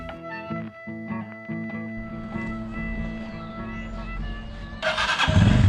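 An old motorcycle engine in Peru idles with a steady, uneven putter, then revs louder and rougher near the end.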